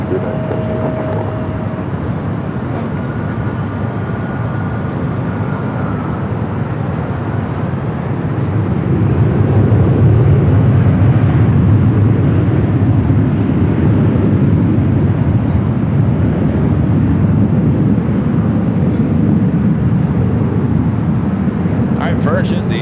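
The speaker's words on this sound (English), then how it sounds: "runway 24 left, clear for takeoff" A jet airliner rolls and climbs on its takeoff run from runway 24 left at Los Angeles International Airport, a broad low roar swelling louder midway and holding steady, with an air traffic radio voice heard over it.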